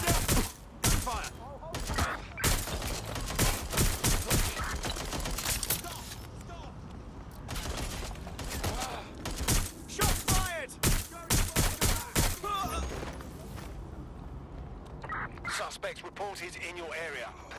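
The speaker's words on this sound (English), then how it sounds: "Gunfire!" Rapid bursts of gunfire in the video game Watch Dogs: Legion, loud sharp volleys and automatic fire cracking repeatedly at close range, thinning toward the end, with voices and radio chatter mixed in.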